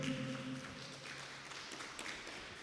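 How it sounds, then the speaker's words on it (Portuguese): Church congregation applauding, a dense wash of clapping that fills the moment at a fairly low, distant level, with a brief tonal hum at the start. "Vamos aplaudir a Jesus bem forte"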